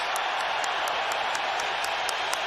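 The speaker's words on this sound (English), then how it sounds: "the crowd rises to appreciate the intensity of this war" A boxing arena crowd at a heated fight roars and applauds in a dense, continuous wash of noise, loud and sustained throughout.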